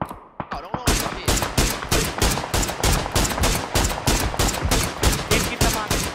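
Rapid automatic gunfire in a PUBG match, a long dense burst of evenly spaced loud shots after a few scattered opening cracks, close and dominant throughout.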